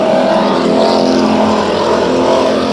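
Stock cars race at Bakersfield Speedway, several engines roaring together in a loud, steady, unbroken drone with no gaps and no voices.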